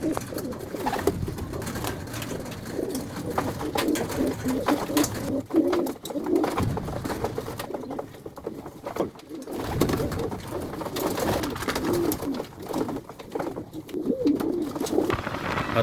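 Racing pigeons coo steadily at close range, a continuous layered murmur of soft, throaty calls with no talking over it.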